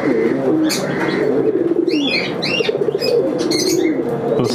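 Fancy pigeons at a breeding farm coo in repeated throaty, rolling calls close by, with occasional higher chirps and soft wing flutters overlapping.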